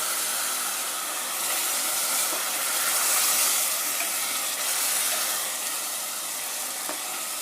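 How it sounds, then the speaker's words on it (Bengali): Marinated goat meat frying in a pan gives off a loud, steady sizzle, a bright hiss that swells and eases slightly without pausing. "জাস্ট একটু ভেজে নিই বন্ধুরা, একটু মাংস রান্না করছি"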